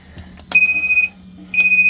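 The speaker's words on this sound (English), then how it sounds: "Start up there, and you got the alarm that goes." A 1986 Universal Trawler 36 Europa boat's engine alarm beeps at start-up in two high, sustained electronic tones, each lasting about half a second, sounding close and clear with a low hum underneath.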